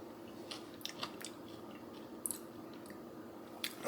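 Close, quiet chewing of freeze-dried fiery shrimp noodles, with a few crisp crunchy bites spread over a few seconds above a steady background hiss.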